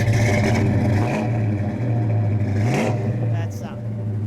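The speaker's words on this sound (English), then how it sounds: "give her just a little gas" A 1970 Plymouth GTX 440 with a four-speed rumbles loudly at close range, then briefly rises in pitch as it is revved, while people talk nearby.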